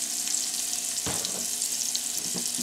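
Onion frying in a little oil in a pan for tilapia fish, giving a steady close hiss of sizzling with a couple of soft stirring thumps, no voices.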